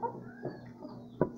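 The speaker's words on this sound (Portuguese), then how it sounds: "Isso aqui é uma franguinha, 5 meses." A five-month-old young hen clucks softly a few times, with one slightly louder cluck near the end, over a faint low background hum.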